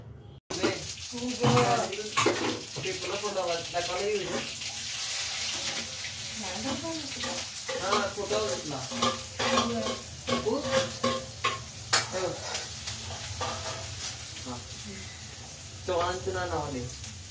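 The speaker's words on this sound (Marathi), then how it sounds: "तर इथे मी पिठल्याची फोडणी टाकते" A tempering for pithla sizzles in a pan, with steady frying hiss and scraping stirring throughout, while a voice speaks over it at intervals.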